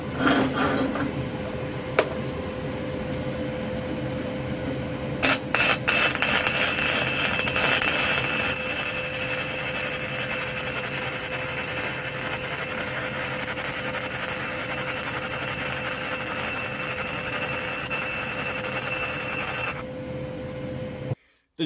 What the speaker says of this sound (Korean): 이번에는 이제 필렛 용접을 한번 해보겠습니다